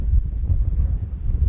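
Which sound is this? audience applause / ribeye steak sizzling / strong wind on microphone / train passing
strong wind on microphone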